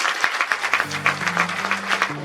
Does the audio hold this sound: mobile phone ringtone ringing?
no